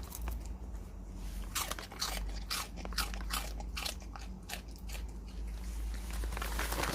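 A dog crunches Saeukkang shrimp crackers, close-up with steady crisp bites and brittle cracking repeating through the stretch over a low background hum.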